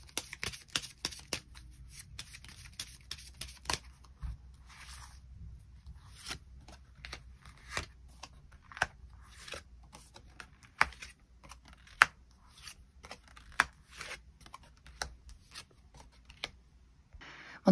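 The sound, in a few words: tarot cards being shuffled and drawn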